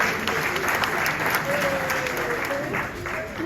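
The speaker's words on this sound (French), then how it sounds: "Et applaudissez la partie d'ailleurs." Steady applause from an audience at a live Haitian children's quiz show concert, dense and continuous throughout, with a faint voice over it.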